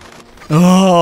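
A Cucco chicken in The Legend of Zelda: Ocarina of Time lets out a single loud, drawn-out squawk that starts abruptly after a quiet moment and holds steady to the end.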